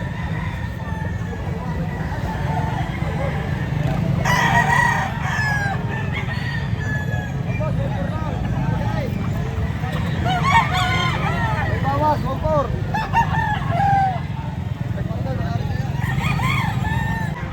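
Roosters crow repeatedly in a busy outdoor setting in Sariaya, Quezon, their calls rising over a steady background din and nearby chatter.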